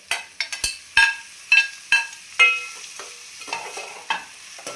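Onion and tomato tossed into hot oil in a home kitchen pan, heard as a string of sharp stirring scrapes and clinks over a light sizzle, roughly a dozen bursts in an uneven rhythm, close and fairly loud.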